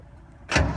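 A 1970 Jeep CJ-5 with a Dauntless V6 cranks and catches after a quiet start, the engine bursting to life close by and settling into a steady, loud idle.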